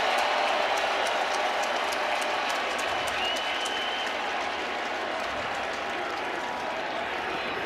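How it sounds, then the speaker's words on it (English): A college baseball crowd at an NCAA game between Texas and Texas Tech gives a sustained, steady cheer of anticipation before a pitch, dense broadband crowd noise holding throughout with scattered claps. "here the anticipatory cheer, and then it gets quiet when the pitch is about to be delivered"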